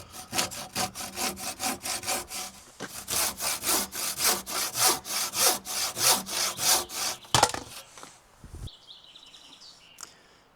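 A handsaw cuts through a wooden rafter for a shed roof in a run of steady, rasping back-and-forth strokes close by. The cut ends with a clatter, and birds chirp faintly outdoors behind it.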